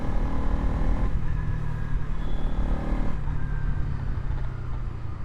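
Bajaj Pulsar 200NS motorcycle engine running steadily up close, a continuous loud rumble with no break across the clip and no speech.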